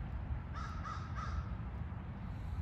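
Several crows caw back and forth in repeated groups of harsh calls, moderately near, over a steady low outdoor rumble with no talking.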